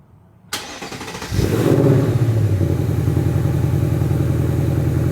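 A Ford Mustang engine cranks and fires with a sharp catch, then settles into a loud, sustained high rev held steadily, as during a line lock burnout.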